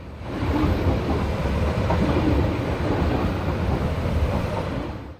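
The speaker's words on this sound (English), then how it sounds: "like this SJ North service arriving in from Trondheim" An SJ North sleeper train from Trondheim rumbles loudly past at close range while arriving at a station in Norway, a steady heavy roar of wheels and carriages that fades away abruptly at the end.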